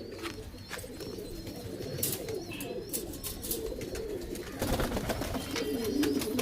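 Kalanka pigeons coo in a loft, their low repeated throaty calls close by and overlapping, with a flutter of wings and soft chirps in the background.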